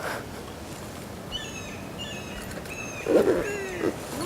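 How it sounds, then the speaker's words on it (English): A bird calls outdoors in repeated short, high chirping phrases against a steady background hiss, with a brief louder burst near the end. "What kind of bird is that, Dan?"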